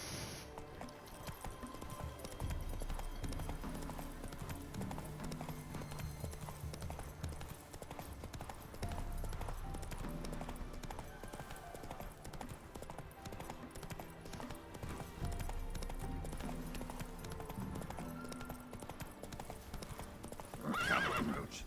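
Roach, the horse in The Witcher 3: Hearts of Stone, gallops with rhythmic hoofbeats continuing throughout, faint in the mix, with a whinny near the end.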